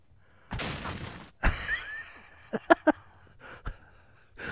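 Glass shattering and breaking in several bursts: a sharp crash, then scattered smashing impacts and clinks tumbling over a few seconds, fairly close with quiet gaps between hits.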